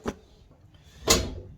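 A heavy glass sliding door drops down onto its roller, giving a short faint knock followed by a louder, broader thud about a second later, both close by in a quiet room.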